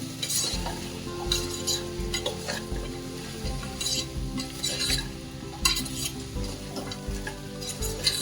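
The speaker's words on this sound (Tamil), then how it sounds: "இப்போ இதை நல்லா அந்த மசாலாவோட மிக்ஸ் ஆகிற அளவுக்கு பரட்டி விட்டுக்கோங்க" Vegetable biryani with masala being turned in a pot, a low sizzle under regular scraping and clinking strokes of a metal spoon against the pan.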